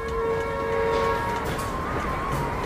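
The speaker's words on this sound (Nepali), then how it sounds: "ट्रेन आइसक्यो जस्तो छ" A train pulls into a station in Korea, its long steady horn-like tone and rail rumble filling the scene, loud and continuous with no speech.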